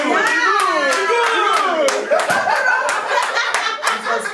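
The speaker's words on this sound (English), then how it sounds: "Let me clap for God" Sharp hand claps ring out in a loose rhythm, close and loud, over overlapping excited voices and some laughter during a music interview.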